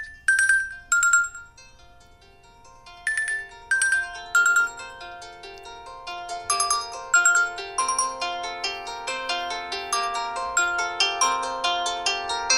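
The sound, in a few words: ringtone playing on a Nokia X100 phone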